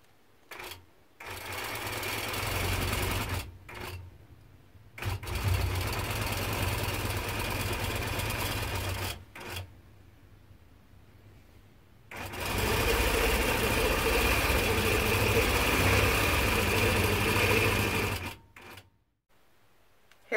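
A Nolting Pro-Series longarm quilting machine stitches binding onto a quilt in two loud sustained bursts of rapid mechanical whirring, separated by short quiet pauses and brief starts and stops.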